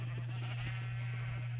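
A few short bleats from a sheep on a Minecraft sheep farm come over a steady low electronic hum, with a faint murmur underneath.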